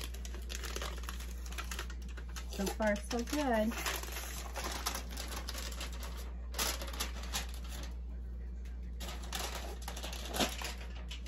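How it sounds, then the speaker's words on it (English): Foil being peeled off baked candy crack on a baking sheet, a steady close crinkling and crackling with a steady low hum underneath, while a person speaks briefly. "Now we'll take it right out of the baking sheet and see how we do peeling the paper,"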